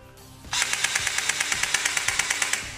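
SKD Beretta 90TWO gel blaster firing full auto, a rapid steady burst of about twenty evenly spaced mechanical shots that begins abruptly after a short quiet pause and runs to the end, close and fairly loud.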